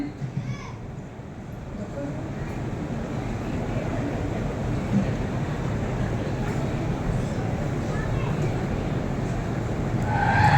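A car accident sound effect plays during a community stage play. It is a steady, loud rush of engine-like noise with a murmur of voices, ending in a slight swell.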